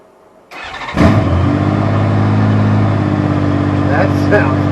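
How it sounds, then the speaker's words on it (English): A Honda Gold Wing GL1500 motorcycle engine fires up and runs with no muffler, a loud raw rumbling idle with a blip of revs near the start, close by and continuous after brief quiet. "Let's see what it sounds like with no muffler"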